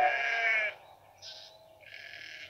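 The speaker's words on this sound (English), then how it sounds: "There were sheep on the tracks." Sheep bleating on railway tracks, one loud bleat followed by two fainter calls, close and alone.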